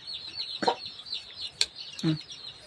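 Chickens cluck in short separate bursts, three distinct calls spaced about a second apart, fairly close, over a quiet background with faint chirping and no talk.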